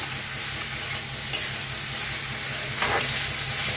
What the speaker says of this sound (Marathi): बघा एक मिनिटभर असा कोबीज भाजून घेतलाय